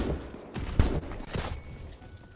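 Several sniper gunshots in the tactical shooter Tip of the Spear: Task Force Elite, a few sharp cracks spaced out over a couple of seconds, moderately loud against a low game ambience.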